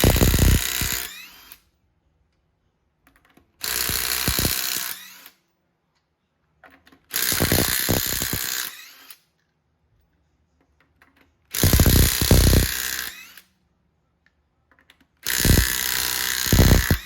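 Power tool spinning car wheel lug nuts off during a tire rotation at home: five separate loud, whirring bursts of a second or two each, separated by near silence.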